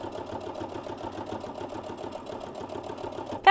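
A sewing machine hems an apron in straight lines, its needle chattering in a fast, steady rhythm close by, with a sharp click right at the end.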